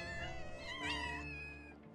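Kittens meow in the Final Fantasy VII Rebirth video game, giving a couple of close, plaintive calls that rise and fall over steady game music.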